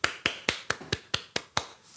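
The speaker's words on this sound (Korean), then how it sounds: "우리 한번 환영의 박수." Welcoming applause in a church service: eight sharp, evenly spaced claps in a steady rhythm, close and fairly quiet, with no talking.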